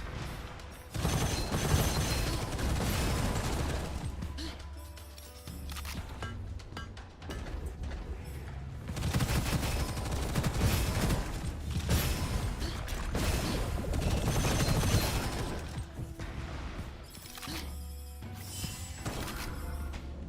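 Grenades exploding in the shooter game Gunfire Reborn, a dense, loud, continuous barrage of blasts and crashes that keeps swelling and easing without a break.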